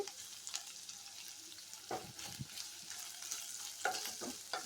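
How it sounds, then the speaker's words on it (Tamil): Chopped ginger fries steadily in hot oil with a soft continuous sizzle, while a spoon stirs it and knocks the pan now and then. Close and fairly quiet, no voices. "எண்ணெய் விட்டு காஞ்சதும் இந்த நம்ம கட் பண்ணி வச்ச இஞ்சியை போட்டு நல்லா பொரித்து எடுக்கணும்"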